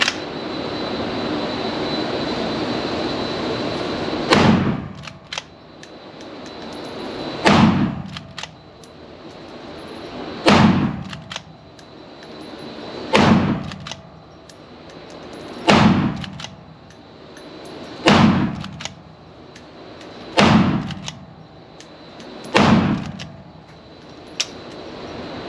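Eight sharp gunshots from a Henry Supreme lever-action rifle ring out at regular intervals of roughly two to three seconds, each loud crack followed by a brief decay and lever cycling between shots.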